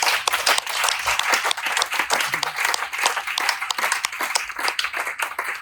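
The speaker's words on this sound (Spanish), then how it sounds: "Denle un aplauso a Cristo." A church congregation claps together in a dense, continuous round of applause, close and lively, with no voices over the steady patter of hands.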